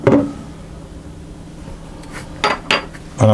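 A spoon clinks and scrapes against a bowl while an olive oil mixture is stirred, with a few sharp knocks separated by quieter scraping and no talking.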